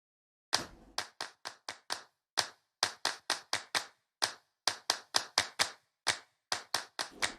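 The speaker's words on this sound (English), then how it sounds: "that's basically how you would do it with claps" Looped clap samples played back in Ableton Live, a sharp run of dry, close hand claps in quick rhythmic bursts with short gaps between phrases, standing alone without talk.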